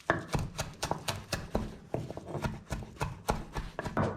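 Fresh parsley is chopped with a knife on a board in quick, regular strokes, about a dozen crisp close thuds in a steady rhythm, with no voices.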